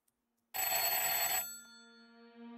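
An old-style telephone bell in a horror video game bursts into a loud, close ring out of silence, rattling for about a second before fading into a lingering metallic hum.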